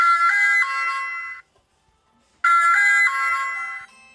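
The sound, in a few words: Ring doorbell Chime Kit mini single-tone chime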